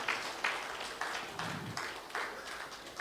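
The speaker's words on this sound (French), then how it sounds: "Est-ce qu'on peut encore encourager Dieu ce matin avec les acclamations?" Church congregation at a Sunday service, with a faint, rhythmic sequence of about seven evenly spaced claps in unison, distant and quiet.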